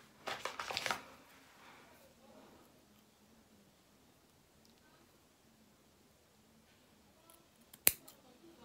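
Scissors snip through synthetic hair from a wavy bob wig, a quick burst of close crisp cuts at the start, then near quiet, then one sharp isolated snip near the end.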